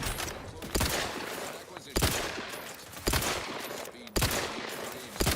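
Repeated heavy bursts of gunfire from a weapon in the video game Outer Worlds 2, sharp reports recurring roughly every second over a loud, dense wash of game noise.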